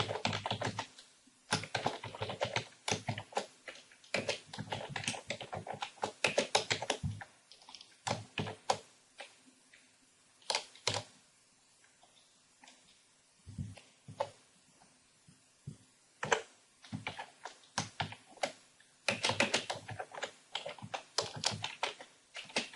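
Code is typed on a computer keyboard in close, quick bursts of clicking keystrokes, broken by several pauses, with no voices.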